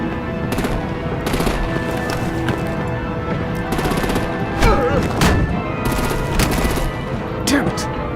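Dense bursts of machine-gun fire and scattered gunshots ring out in a Batman: The Enemy Within game scene, loud and sustained with repeated volleys over a rumbling background.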